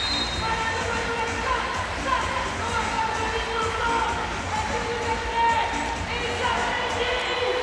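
An arena crowd at a Germany versus France men's wheelchair basketball game, a dense continuous roar of cheering and voices with whistle-like tones, with a commentator talking over it.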